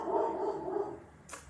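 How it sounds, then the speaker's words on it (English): A steady low hum fills the background, then a single short, faint dog bark sounds from some distance near the end. "if you can hear my dog barking"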